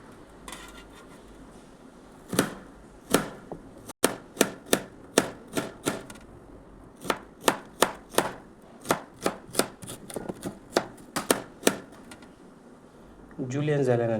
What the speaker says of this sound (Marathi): तो कुकिंगमध्ये जुलियन्स जो प्रकार आहे ते जुलियनसारखं आपल्याला कट करायचं आहे